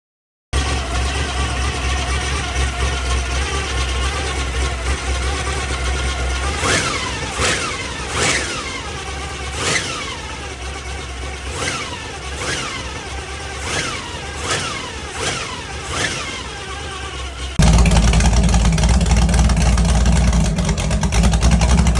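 A carbureted 355 small-block Chevy V8 runs close by on an engine stand, with repeated sharp revs over a steady idle, then settles into a louder, deeper rumble near the end.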